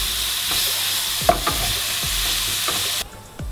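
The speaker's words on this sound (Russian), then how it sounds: "Хорошенечко перемешиваем." Soup ingredients stirred in a pan, a loud continuous sizzle with a few sharp scrapes and knocks of the spoon against the pan, the frying cutting off abruptly near the end.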